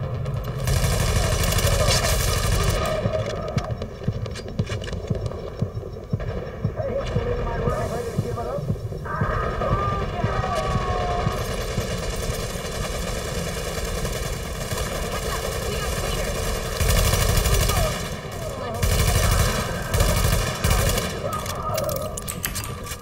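Automatic gunfire from a weapon in a video game, sustained loud rapid-fire bursts rattling almost continuously, with short gaps and background engine-like rumble beneath.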